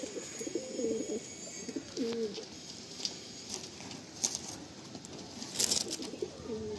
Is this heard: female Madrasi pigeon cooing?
yes